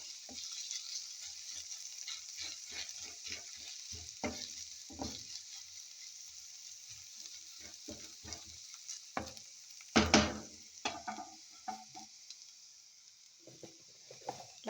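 Egg and eggplant omelette fries in a pan with a steady close sizzle, broken by scraping and tapping as the mixture is stirred, including one sharp clatter.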